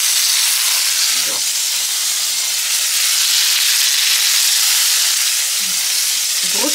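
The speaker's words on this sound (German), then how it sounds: "Ich habe von beiden Seiten jetzt angebraten" Meat sizzles and hisses loudly in an oiled frying pan after being seared on both sides, a dense continuous frying noise heard up close, with a couple of brief clinks of handling.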